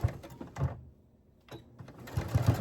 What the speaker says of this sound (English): I'm just going to go right over that, and I'm going to give that a little back stitch just to secure.